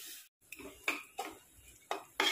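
Potatoes and pointed gourd are stirred in a pan on medium heat: a handful of separate scraping, clinking strokes of a utensil against the pan, quiet and close, with short pauses between them.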